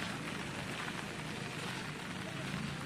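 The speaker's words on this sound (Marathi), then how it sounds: "पाऊस पडत आहे." Steady rain falls around a college campus in Kankavli, a continuous even hiss with no breaks across the whole stretch, moderately loud and close.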